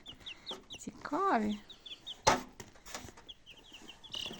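Incubator-hatched chicks cluck and chirp in short repeated bursts close by in a Ukrainian village, with someone speaking briefly and a sharp knock partway through.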